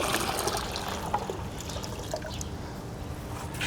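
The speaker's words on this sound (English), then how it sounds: "the water drains out slowly" Water drains slowly out of holes in a watering bucket onto tree roots, making a steady, close trickling and dribbling sound with scattered small drips and no voices.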